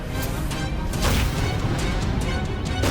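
A door being forced and broken down, heard as a few heavy crashing impacts over dense, rough noise for about three seconds, fairly loud and with no talk.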